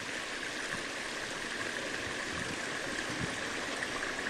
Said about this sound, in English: See the water churning up underneath there and slow waterfalls.